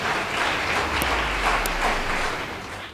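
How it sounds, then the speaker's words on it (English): Audience applause for a girls' high school debate team at a debate competition, a steady dense wash of clapping filling the whole stretch, fairly loud with a few cheers. "Please give them a round of applause."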